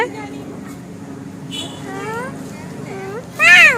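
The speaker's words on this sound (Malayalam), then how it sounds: "പൂച്ച" A cat meows a few times, rising and falling cries, the last one louder and closer, over a low background hum.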